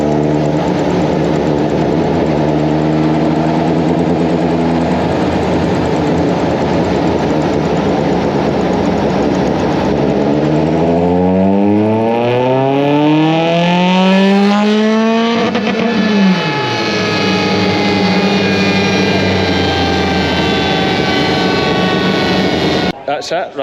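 A high-boost race car with carbon inlays runs on dyno rollers, its engine loud and close, holding a steady roar before the revs climb sharply and then fall away.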